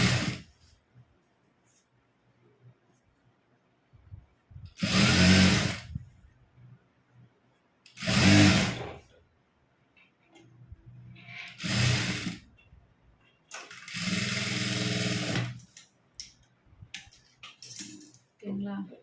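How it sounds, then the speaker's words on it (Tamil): A sewing machine runs a quarter-inch gathering stitch on puff sleeves in several short loud bursts, each a few seconds long, separated by quiet pauses. "இப்போ வச்சுட்டு கீழே 1/4 இன்ச்சில் கூட்டுற அளவுக்கு தையல் போட்டுக்கிறேன்."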